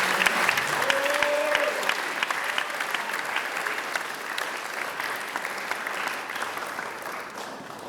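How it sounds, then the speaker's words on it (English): Audience applause at a school special recognition ceremony, a sustained wash of many hands clapping, fairly distant and even, with a faint voice briefly audible early on. "So let's give her a round of applause."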